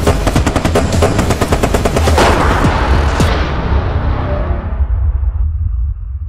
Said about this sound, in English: No, from behind, I'm dead again.